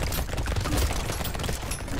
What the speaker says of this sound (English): that rocket launcher, yep, you can see they're just wiping out the trash mobs left and right